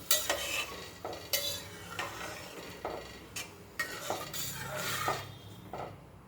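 Salted rice for sweet saffron coconut rice is stirred inside a pressure cooker pot. Repeated scraping strokes of a spoon against metal run over a soft simmering hiss, close and steady, with no talking.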